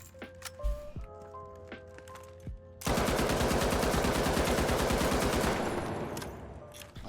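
A gun in the video game The Finals fires a long rapid automatic burst, loud and steady for several seconds, after a few scattered clicks and taps.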